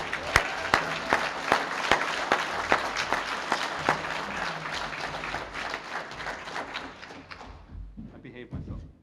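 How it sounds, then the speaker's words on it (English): Audience applause honoring a small business owner at a 2016 small business awards ceremony, a dense sustained clapping from a crowd with sharp individual claps, fading out near the end as a voice begins. "Give her a round of applause."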